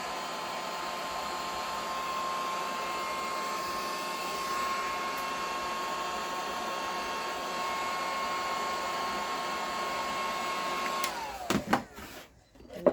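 A heat gun blows steadily on resin art, giving a continuous whirring hiss with a faint tonal whine that runs at even loudness for about eleven seconds, then shuts off, followed by a few soft knocks.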